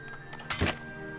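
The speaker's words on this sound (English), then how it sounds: "That could have been the lockpick." A quick metallic clicking and scraping of a lockpick working in a lock in the video game Detective Grimoire, one short burst over a quiet steady hum.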